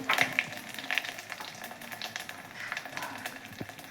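Asafoetida hits hot oil already holding mustard seeds and cumin for tempering Gujarati sweet-and-sour wedding-style dal, giving a light, steady sizzle with scattered crackles and pops, close by and fairly soft, with no talking.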